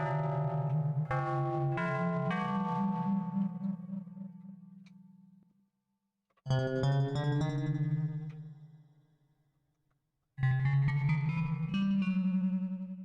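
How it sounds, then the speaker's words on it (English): Bells synth preset on a Waldorf synthesizer run through effects, three long chiming chords with bright metallic overtones and a slightly distorted swell, each decaying into silence before the next strike. "Bells."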